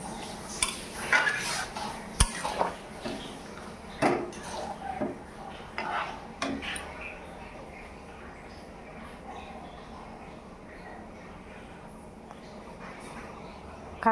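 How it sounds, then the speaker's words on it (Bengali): Curry stirred in a cooking pot with a utensil: scattered scraping and clinking strokes of metal on the pot in the first half, fading to a quiet background hum afterward. "এখন ভালো করে নাড়াচাড়া করে নেব।"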